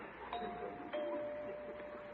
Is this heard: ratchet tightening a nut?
no